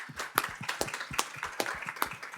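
A small audience claps at an anniversary event in NSW Parliament, a brief, fairly close patter of hand claps in an uneven rhythm, with no talk over it.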